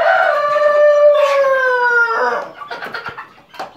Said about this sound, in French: tu es en train de préparer l'aliment pour nourrir les poulets que je vois ici